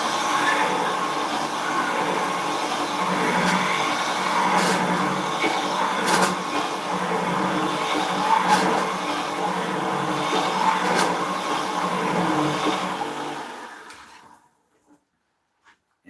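A woodturning ball gouge being resharpened on a grinder, giving a steady whirring grind with scattered scraping bursts for about fourteen seconds before it stops abruptly into silence.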